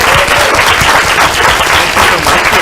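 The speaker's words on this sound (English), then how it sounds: "one more round of applause for our young artist" Audience applause for a student artist at a school board of education meeting: a dense, steady wash of many hands clapping together, loud and close, holding evenly for the full stretch without pause.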